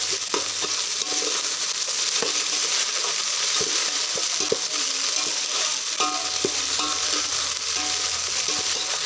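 Ginger garlic paste frying in oil outdoors as the base for a mutton curry, a constant dense sizzle with occasional knocks and stirring scrapes from a utensil, close and steady.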